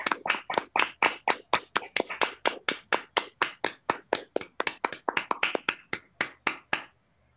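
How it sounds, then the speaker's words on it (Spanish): Applause closes an online conference talk, crisp individual claps in a quick, steady rhythm of about four per second, close and clear through open microphones, then fading out. "darte un aplauso, por favor"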